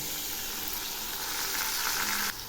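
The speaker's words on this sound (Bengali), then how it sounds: "মশলাগুলো খুব ভালো করে কষিয়ে নেব।" Spices sizzle steadily in a pan with a splash of water while being cooked down for a cauliflower korma, a dense close hiss that swells slightly before easing near the end.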